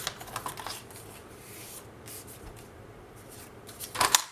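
Scissors cut paper for a vintage scrapbook album page. The soft crisp snipping and rustling is faint and close, and a louder sharp snip comes near the end.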